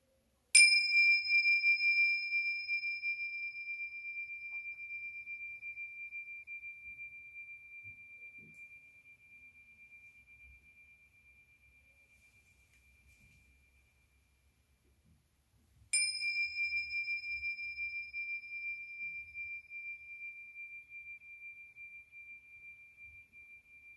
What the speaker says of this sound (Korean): 먼저 종소리에 잠깐 마음을 모으는 시간을 갖도록 하겠습니다